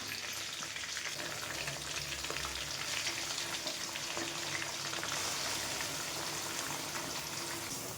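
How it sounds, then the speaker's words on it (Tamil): Paste of ground tomato, garlic, black pepper and curry leaves sautéing in a pan, a steady dense sizzle and crackle of frying that runs evenly throughout, close and fairly loud with no talking. "இந்த பேஸ்ட்டை வந்து நல்லா வதக்கி விட்டு"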